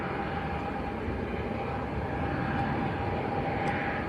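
Jet2 airliner departing Leeds Bradford Airport, a loud, steady, broad jet engine roar with a faint whine on top, continuous for several seconds.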